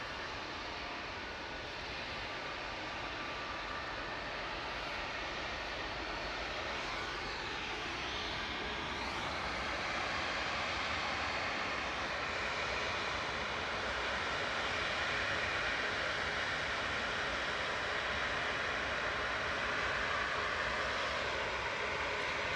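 A Ryanair Boeing 737 MAX 8 taking off at Manchester Airport, a steady distant jet roar that slowly builds in loudness over about twenty seconds, continuous and unaccompanied by speech.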